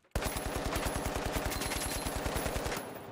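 An AK rifle fires fully automatic in the video game THE FINALS: a rapid, even burst of about thirty punchy shots over nearly three seconds, loud and close, then a short tail.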